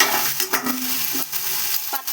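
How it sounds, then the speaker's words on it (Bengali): Shredded cabbage dropped into a hot pan and stir-fried, a soft sizzle and rustling scrape of the spatula for about two seconds, close up and without talk. "তারপরে আমরা এই পাতাকপিটা ছেড়ে দিচ্ছি।"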